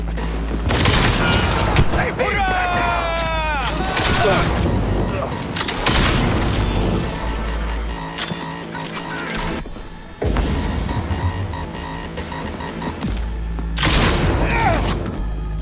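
Gunfire in the video game Cyberpunk 2077: loud, close bursts of shots and booming impacts recur throughout, mixed with crashes and mechanical clatter, while characters talk between volleys.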